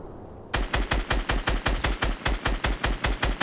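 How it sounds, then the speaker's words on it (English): Rapid outdoor gunfire erupts after half a second of quiet, a steady run of about fifteen loud, evenly spaced shots in quick succession, close to the listener, with no one talking. "Where the fuck are you shooting?"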